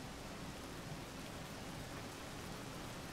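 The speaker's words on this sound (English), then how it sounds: "Wait for the rain to subside." Steady rainfall in the video game Rain World, a dense even hiss that is moderately quiet and continuous throughout, with no voices.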